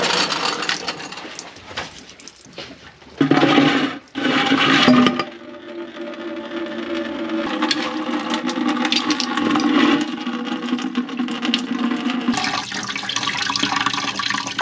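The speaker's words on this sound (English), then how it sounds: "We gotta just drain the system." Coolant draining from a Volkswagen Vanagon's cooling system, a loud continuous splashing gush of liquid pouring out, close up, with a brief louder surge early on and no talk.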